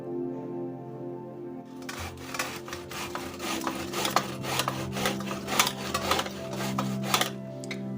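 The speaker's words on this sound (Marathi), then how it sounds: "असा पेरू किसून घ्यायचा" A whole guava is grated by hand on a metal grater, giving a steady run of rough rasping strokes that start after a quiet moment and repeat close up.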